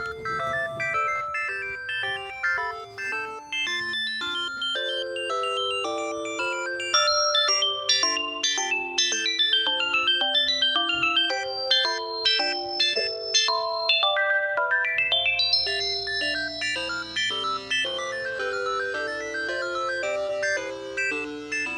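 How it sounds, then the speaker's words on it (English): A homemade looping tune in a light shop-music style plays bright, bell-like synth notes in a repeating melody, with a lower sustained tone entering partway through, steady and clear with no voices. "this one's going to be kind of like the store song, where it's a repeating loop"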